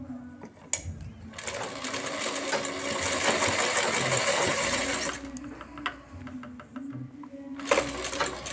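A sewing machine stitches a net designer blouse in a loud, continuous close run of several seconds, framed by scattered clicks and handling knocks before and after.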